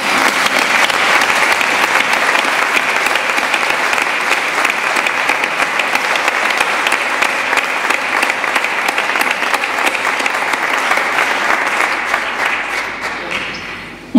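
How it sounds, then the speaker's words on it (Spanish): An audience at a talk at the Ateneo de Madrid breaks into loud, sustained applause, a dense wash of clapping that carries on evenly for over ten seconds before thinning out near the end. "Ahora, Yolanda, le voy a pedir al público, pues, un aplauso para ti."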